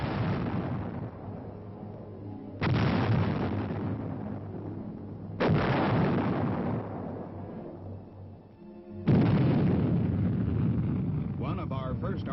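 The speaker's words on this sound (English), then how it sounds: "training is in progress on artillery weapons of every conceivable variety" Army artillery firing on the ranges at Fort Sill, four heavy booms spaced a few seconds apart, each a sudden blast trailing off into a long rumbling decay, distant and powerful.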